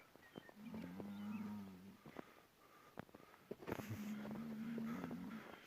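Cattle give two long, low moos separated by a short pause in a forest near a village, with faint scattered outdoor clicks and rustles around them.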